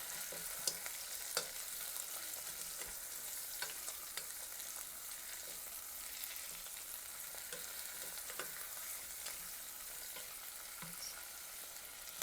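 Chopped tomatoes cooking in a pan for a simple tomato soup give off a soft, steady crackling sizzle with light scattered pops, faint and even throughout with no talking.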